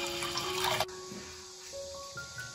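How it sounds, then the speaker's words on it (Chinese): Thawed tomatoes are washed under a running tap, a brief rush of water that cuts off abruptly, followed by faint drips and light handling in a quiet kitchen. "西红柿解冻好了之后清洗干净"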